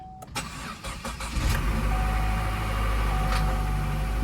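A Chevy Cruze bought from a Copart auction cranks over with a rapid starter whir, then catches into a steady, loud engine idle that runs on close by with no talking.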